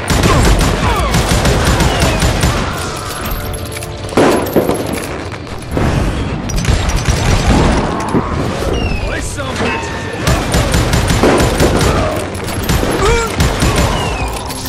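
Rapid bursts of revolver and rifle fire crackle almost continuously in the Wild West shooter game Call of Juarez Gunslinger, loud and close, with brief lulls between volleys.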